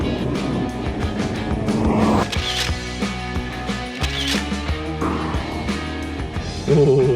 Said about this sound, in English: Man, this Prius hauls butt.